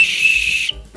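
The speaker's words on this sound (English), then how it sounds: "It has a whistle on it." Small plastic whistle from a cheap Chinese survival kit blown once, a steady shrill tone held for most of a second before cutting off, loud and close.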